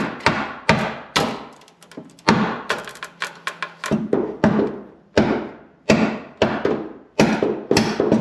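A hammer drives a bolt back through a rear long arm on a Jeep WJ, striking metal in loud, close blows. A rapid string of taps is followed by heavier, evenly spaced strikes that ring briefly after each hit.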